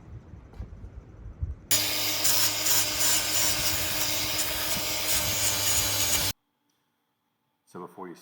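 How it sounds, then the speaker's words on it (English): A loud, steady grinding whine of an angle grinder with a sanding disc pad runs for about four seconds while building a chicken tractor, then cuts off abruptly; brief speech follows. "I have an angle grinder with the sanding disc pad"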